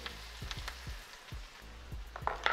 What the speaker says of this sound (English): saute your veggies in that butter